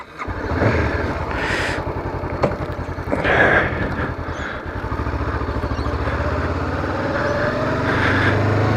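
A 2013 Honda CB500F motorcycle engine cranks, catches and settles into a steady, close idle with a low, even throb.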